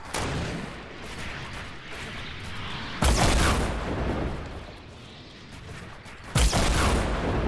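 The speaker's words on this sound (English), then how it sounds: "Here comes the inevitable rockets." Rocket explosions in a Fortnite duos match, three loud booms spaced a few seconds apart, each trailing into a long noisy rumble.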